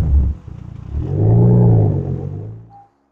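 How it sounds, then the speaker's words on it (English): A single deep engine rev from a Mk4 Toyota Supra with a 2JZ engine swells and fades, a throaty exhaust rumble rising to a sustained roar before cutting off. "It's got a vibrant exhaust system on there. It sounds terrific"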